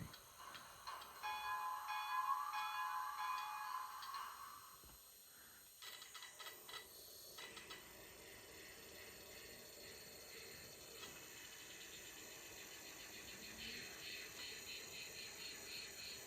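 An HO scale brass Southern Pacific 2-8-2 Mk-11 model locomotive pulling a 20-car train hums and clicks along track, with a steady ticking rhythm and faint mechanical whine, fairly quiet and close.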